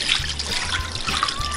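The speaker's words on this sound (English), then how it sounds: "but just pour it over." Water is poured over a dehydrator tray to rinse out duck jerky residue stuck to the bottom, a steady close trickle and splash running for the whole moment with no talk.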